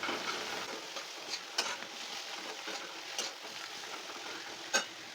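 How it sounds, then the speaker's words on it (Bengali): Sliced bitter gourd (uchhe) fries on medium heat in a steady, soft sizzle, broken by a few quiet scrapes of a stirring spoon. "দশ মিনিট ধরে উচ্ছেগুলোকে মিডিয়াম আঁচে এইভাবে ভেজে নিয়েছি"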